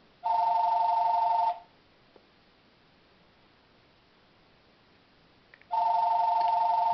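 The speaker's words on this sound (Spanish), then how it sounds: "Nos disculpamos por el teléfono." A telephone rings in a quiet room: one loud electronic ring burst about a second long, silence, then a second ring that starts near the end.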